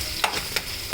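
Green chilies and asafoetida fry in hot oil with a steady close sizzle, broken by three quick stirring scrapes of a spoon against the pan.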